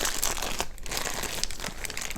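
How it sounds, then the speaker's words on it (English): A plastic bag wrapped around a Diamond Art Club painting canvas crinkles and rustles steadily up close as it is handled, with no speech. "the paintings always come in a plastic bag that says Diamond Art Club."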